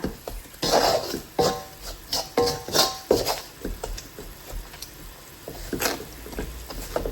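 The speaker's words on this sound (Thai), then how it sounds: "เราก็จะเคี่ยวนะคะทุกอย่างเข้ากันนะคะ ให้น้ำตาลละลายค่ะ" Chili paste cooking down with sugar in a pan, with soft sizzling under a series of scraping stirs and clinks of a utensil against the pan, close and moderately loud.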